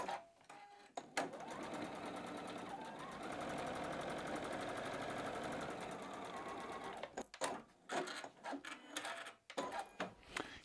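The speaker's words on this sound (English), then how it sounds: "then we're just gonna sew the individual blocks together" A sewing machine joins batik quilt blocks in a long continuous run of rapid stitching, then a few short bursts as the fabric is repositioned.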